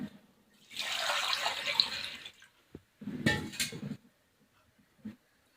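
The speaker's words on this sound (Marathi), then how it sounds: "आता परत मी त्यात पाणी ऍड करते" Tap water pours into a container of rice that has soaked for three days, a steady splashing stream for about a second and a half, then a shorter second pour, followed by faint drips and small clinks.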